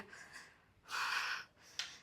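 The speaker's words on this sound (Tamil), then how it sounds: "மூச்சு வாங்குது பயங்கரமா." Heavy panting from someone trekking uphill: two or three loud, close, breathy exhalations with pauses between them, and no talking.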